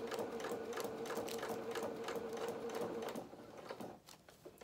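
Sewing machine stitching across fabric for a small doll-sized fisherman's top, a quiet, steady rapid whirring hum that stops after about three seconds, leaving a few soft clicks.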